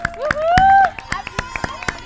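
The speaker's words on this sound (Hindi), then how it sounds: "ये जो तालियां बज रही हैं वो इसलिए बज रही हैं कि हम किसी से कम नहीं है" An audience at a Diwali celebration in Jaipur, Rajasthan claps in a quick, even rhythm, with a voice sounding over the clapping.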